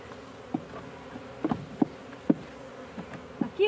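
Honeybees droning inside an opened hive during an inspection of the comb and brood, with a steady low hum broken by several closer buzzing passes of individual bees near the listener.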